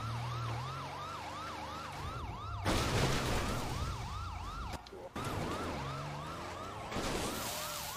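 A fire engine siren in GTA V wails up and down in fast repeating cycles, loud and close, with bursts of rushing engine noise breaking in.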